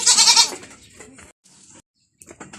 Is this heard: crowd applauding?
no